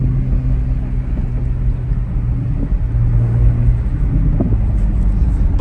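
A Corvette C8 Z06 engine rumbles steadily while driving, a low, throaty drone with slight swells in pitch, heard from inside the car.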